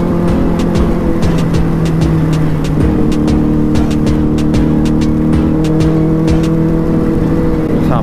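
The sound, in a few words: superbike engine running fast in fourth gear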